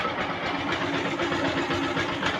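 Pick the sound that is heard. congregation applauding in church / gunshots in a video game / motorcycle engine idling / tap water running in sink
motorcycle engine idling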